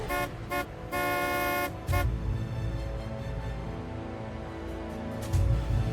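A car horn honks in several short and long blasts, loud and close, over a steady engine rumble with traffic noise behind it.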